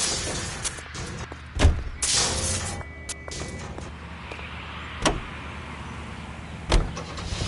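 A car in L.A. Noire, with the engine running at a low, steady idle or cruise, is punctuated by several sharp thumps and clunks, like door slams, in a quiet interior.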